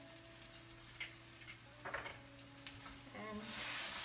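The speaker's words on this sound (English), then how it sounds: "mix it well till the dal dries out" Cholar dal cooks in a pan, with quiet, sparse clicks and scrapes from stirring over a faint sizzle and a low steady hum, before the frying hiss swells louder near the end.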